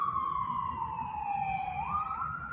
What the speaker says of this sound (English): Confirmation with the sirens going on, right?